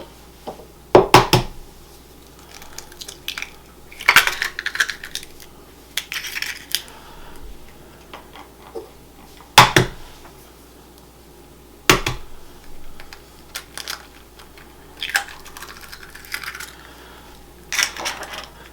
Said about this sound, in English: Now I'm going to add in 2 of the eggs.